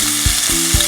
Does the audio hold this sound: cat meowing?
no